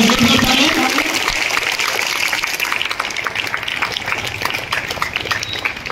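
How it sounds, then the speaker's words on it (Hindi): Loud applause from a quiz audience at a Constitution Day event, a dense burst of clapping that begins at full strength and slowly thins, with voices mixed in. "एक बार जोर से ताली।"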